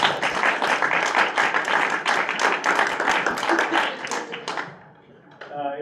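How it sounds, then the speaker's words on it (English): Audience at a school board business meeting breaks into a dense, steady round of clapping that fills the room for several seconds, then thins out as a voice begins speaking near the end. "let's give them a round of applause"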